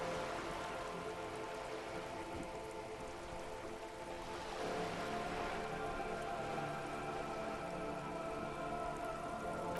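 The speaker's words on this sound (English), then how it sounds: "All around you, rain keeps falling down. On the wooden boards she's standing on, and on the water around you." Rain falls on wooden boards and open water in the game Disco Elysium. A steady, dense hiss of drops and patter continues evenly for about ten seconds at a soft level, with no talk over it.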